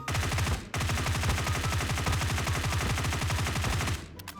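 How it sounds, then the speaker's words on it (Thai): Close-range automatic gunfire while jump-shooting in a first-person shooter video game: a loud, dense, rapid burst of shots that runs nearly four seconds, broken by one brief gap near the start, with no talking. "ให้เราลอง ทำอย่างนี้นะครับ กระโดดยิง"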